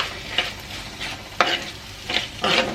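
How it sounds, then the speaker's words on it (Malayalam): Beef cooked in coconut milk (Kerala beef varattiyathu) stirred in a hot pan, giving a few scraping stirs over a steady close sizzle, with clear strokes spaced irregularly through the stretch. "ഒന്ന് ഇളക്കിയിട്ട് കൊടുക്കുക"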